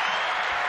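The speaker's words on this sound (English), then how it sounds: "I wanted to get you a round of applause." A brief burst of steady hand clapping, a short round of applause, dense and close, with no pauses.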